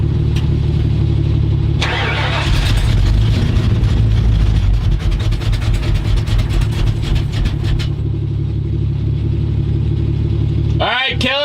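A mobile STEM lab vehicle with a fuel problem cranks, starts and runs at a loud, close, steady idle for several seconds before it is shut off, with people talking over it.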